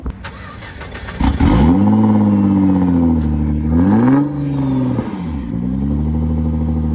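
Nissan GT-R engine starting up with a sharp crank and roar, then revving loudly up and down before settling into a steady, rumbling idle, close by with no talk.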